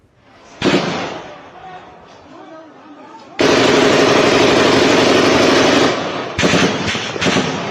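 Heavy gunfire from commandos surrounding a position, loud dense bursts of rapid shots, an isolated crack early on, then a long sustained barrage followed by further short bursts.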